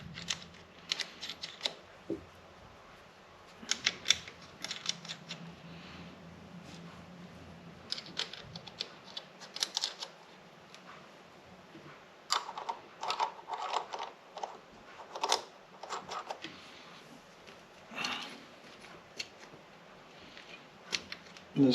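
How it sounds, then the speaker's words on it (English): Nuts are tightened on the water-cooled cylinder head during a Honda Odyssey FL350 engine rebuild, giving scattered close metallic clicks and ratchet-like taps in short bursts, with quiet gaps between them. "So we're just going to tighten all these up again."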